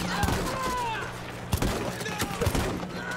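Dense shotgun gunfire and other weapons crack in the Battlefield 1 campaign amid chaotic battle noise, with several sharp close blasts rising above the constant din.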